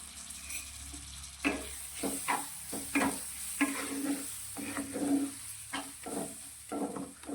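Finely chopped tomato with salt cooks in a pan for a green chili gravy, a soft sizzle under a series of rhythmic scraping stirs, fairly quiet and close, with no talking.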